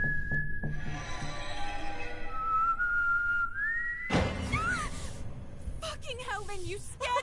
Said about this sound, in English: Who the hell is whistling?